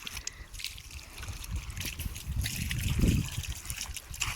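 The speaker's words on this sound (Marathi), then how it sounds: "पाणी अरे पाणी आवाज आला बघा" Water gushes and trickles from an irrigation pipe onto a sugarcane field in a low, uneven stream, fairly quiet, swelling briefly before settling again.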